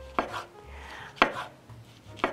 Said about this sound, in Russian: Помидор я также нарезаю